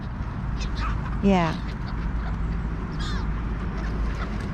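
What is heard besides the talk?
gulls near anti-bird device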